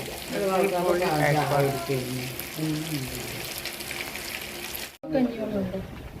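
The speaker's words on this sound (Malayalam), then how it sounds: "അയക്കോറ പൊരിക്കാണ് കേട്ടോ അയക്കോറ" Kingfish sizzles steadily in a hot pan close by, a constant crackling hiss while someone talks over it throughout.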